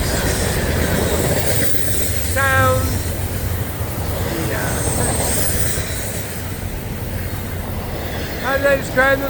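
An FEC train passes with a steady rumbling roar of rail noise throughout, with brief squealing tones rising out of the wash twice.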